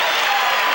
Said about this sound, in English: I think the crowd is cheering here for the Bulls right now, and the Pistons as they leave the court.